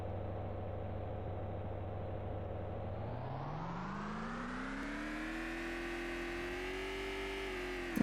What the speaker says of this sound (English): Engine sounds crazy.